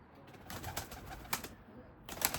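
Domestic pigeons cooing in a loft, soft low coos near the microphone with faint rustling, quiet and alone without speech.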